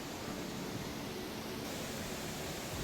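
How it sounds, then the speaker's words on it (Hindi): Fast-flowing water rushes beside a mountain temple in Himachal Pradesh, a dense, steady, broadband roar that fills the whole stretch without letting up. "आवाज़ कितनी तेज है पानी की।"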